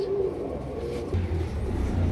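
Caged colored pigeons, double-striped red birds, give low, soft cooing in short repeated phrases, fairly close, over a faint steady background hum.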